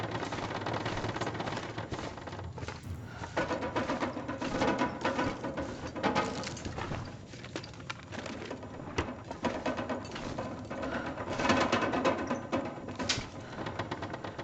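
Blizzard wind in the game The Long Dark batters a cabin, a continuous loud roar of gusts with rattling and creaking of the rafters throughout, steady and dense with no voices.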